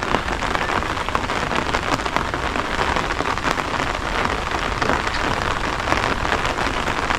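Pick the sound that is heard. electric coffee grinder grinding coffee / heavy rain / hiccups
heavy rain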